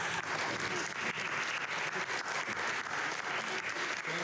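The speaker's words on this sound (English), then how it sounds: "let's give a round of applause" An audience at a lecture gives a round of applause, a steady, dense wash of clapping that holds evenly throughout, distant and fairly quiet.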